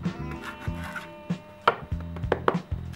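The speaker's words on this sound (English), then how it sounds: "we take a nice little spatula, we cut the excess" A small spatula cuts excess Delft clay away from a mold, giving a few short scraping, chopping strokes close up with a low hum underneath.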